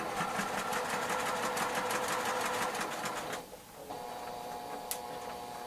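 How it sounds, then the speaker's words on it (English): A sewing machine sews a fabric seam in a steady, rapid ticking whir, then slows and stops, leaving a quieter background hum and a single small click. "we will just sew our seam."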